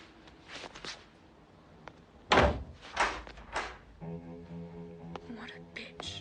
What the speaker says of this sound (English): May I close the door?